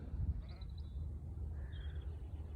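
Pregnant Romney ewes bleating in a lambing field near the farm, a couple of faint, distant calls over steady outdoor wind rumble.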